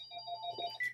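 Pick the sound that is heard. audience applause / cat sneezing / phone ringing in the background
phone ringing in the background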